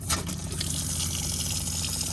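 Gray water drains from an open tank valve under a camper van, a steady, dense rush of water that is loud and continuous throughout, with no talking.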